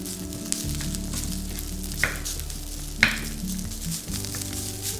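Garlic fried rice sizzles steadily in a hot pan as it is stir-fried, with a few sharp scrapes and taps of a utensil against the pan.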